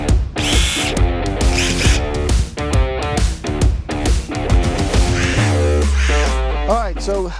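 A DeWalt impact driver, still running after being dropped from a helicopter, whirs and hammers in loud repeated bursts up close, ending in a longer steady run.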